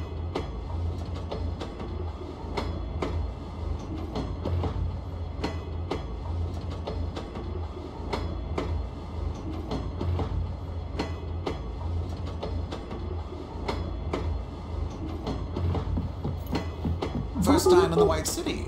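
A train rolls steadily along its rails in Oceanhorn 2, a continuous low rumble with regular clicking wheel beats, fairly close and alone, with a brief burst of higher clatter near the end.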